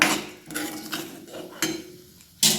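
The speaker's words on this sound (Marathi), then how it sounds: "आपण ह्याच्यात मुगाची डाळ टाकले, मिक्स करून घेऊया।" Soaked moong dal being stirred into a spring onion mixture in a pan, with a few distinct scrapes and clinks of a utensil against the metal, spaced irregularly and fairly close.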